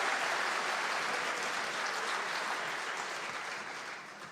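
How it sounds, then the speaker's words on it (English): Sustained applause from an audience at the Equator Prize awards ceremony in a New York theater, dense and steady throughout before slowly tapering toward the end. "no, this is applause"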